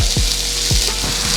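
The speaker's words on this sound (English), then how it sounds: "Sizzling." Shrimp coated in coconut oil sizzle loudly and steadily on a grill, a close, continuous hiss with a few soft low thumps underneath.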